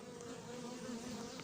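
Purchased honeybees swarm around an opened hive being moved near Fontainebleau, producing a dense, continuous close buzz with steady droning tones and no talk.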